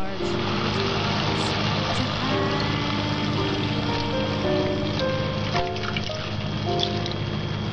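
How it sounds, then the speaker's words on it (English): Stock simmers in a pan with a dense, steady bubbling and crackling hiss, loud and close, running continuously without pause and no clear speech. "come back with a little bit more stock, stir it up, and let it slowly simmer down"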